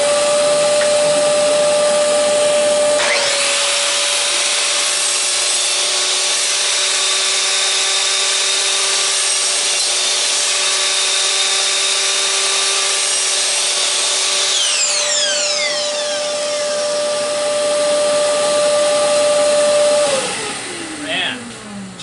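A miter saw fitted with a dust shroud makes full cuts through wood stock. The motor whines loud and close as it spins up, holds a steady roaring cut for about seventeen seconds, then winds down.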